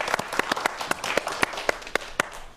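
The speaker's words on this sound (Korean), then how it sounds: "박수 한번 부탁드릴게요" A small audience at a science talk on emergency medicine gives brief applause, a handful of distinct claps rising out of a softer patter of hands, fairly close and moderately loud.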